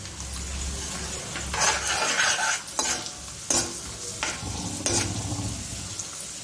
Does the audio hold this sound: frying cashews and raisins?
yes